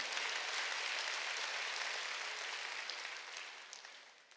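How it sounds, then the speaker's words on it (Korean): Congregation applause at a Sunday church worship service, a soft, distant patter of many hands clapping together that holds steady and then gradually fades out. "두 손이 흉악의 결박이 풀어지는 걸 믿으나 박수"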